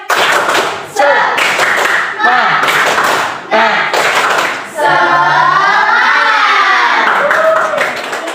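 Third-grade primary school pupils in a classroom math lesson clap a rhythmic spirit cheer in loud, sharp bursts of synchronized hand claps, with a teacher's voice leading between the claps.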